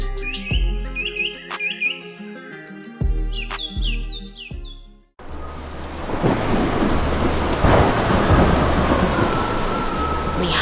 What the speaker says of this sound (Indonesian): Lihatlah badai besar itu.